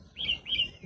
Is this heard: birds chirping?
yes